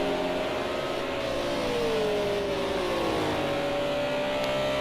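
A Renault RS 01 race car in Project Cars 2 drones steadily with a rising and falling engine pitch, a sustained mid-range roar heard alone at moderate distance.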